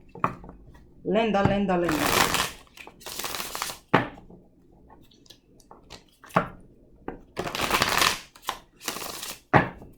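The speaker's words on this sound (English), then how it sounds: "You see how much I'm shuffling?" Repeated bursts of tarot cards being shuffled, riffling in quick rough passes with pauses between, close up, with a voice briefly heard.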